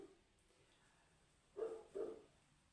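A dog gives two short barks at a moderate distance in a quiet room, each bark brief and separated by a short pause.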